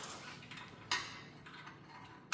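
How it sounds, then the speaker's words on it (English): Ratchet driving bolts into the lower control arm poly bushings on an '83 G-Body during a QA1 Level 2 suspension install; quiet rapid clicking with a few sharper metallic ticks, close by, no talk. "I'm gonna go ahead and grab the ratchet, thread them in the rest of the way"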